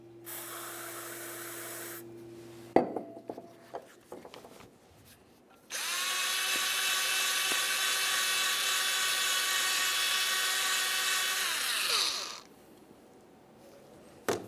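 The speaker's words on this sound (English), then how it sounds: "We'll use some parts cleaner and a bore brush." Parts cleaner hisses in a long spray while a bore brush scrubs the caliper slider pin ports of a 1994–1997 Honda Accord, preceded by clanks and short scraping bursts, then quiet.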